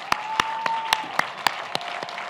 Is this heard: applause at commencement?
yes